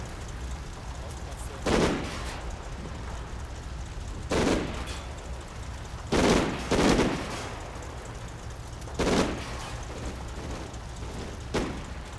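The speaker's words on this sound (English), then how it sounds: "The MGs are doing the most of the work here." Machine gun fire in the video game Combat Mission: Battle for Normandy, with short separated bursts roughly every two to three seconds over a steady rain-like background hiss.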